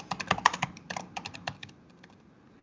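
Fingers tap out a quick run of keystrokes on a computer keyboard, close and crisp, the clicks bunching in bursts and then thinning to a few softer taps as the typing slows and stops.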